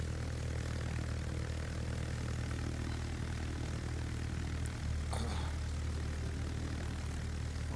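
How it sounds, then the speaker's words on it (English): Enemy carrier aircraft engines in World of Warships make a steady, continuous propeller drone that stays constant and fairly distant, with a brief sharper sound partway through and no talking. "Shooting aircraft down,"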